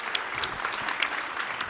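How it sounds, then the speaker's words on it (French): Audience applause at a geopolitics conference in Nantes, a dense, steady patter of many hands clapping throughout the short moment, fairly close and even in loudness. "On peut l'applaudir, bien sûr."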